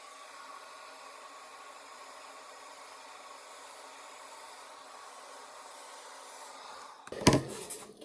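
A hair dryer blows steadily while hair is dried with a brush, a constant airy hiss at moderate level, then a brief loud burst of rough rustling near the end.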